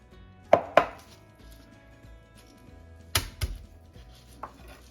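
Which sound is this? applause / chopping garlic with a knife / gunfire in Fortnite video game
chopping garlic with a knife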